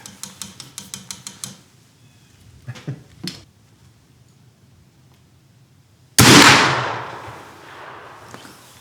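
A 180-year-old black powder rifle fires a single loud, sharp gunshot with a long booming decay, coming after a stretch of quiet and a few faint clicks and taps.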